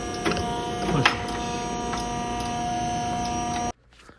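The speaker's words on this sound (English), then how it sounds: "It's my punch press ironworker Corona thing" An ironworker punch press punching a hole for a custom hood emblem, a steady machine hum and whine running loud for several seconds with a sharp clunk near the start, then cutting off abruptly into quiet.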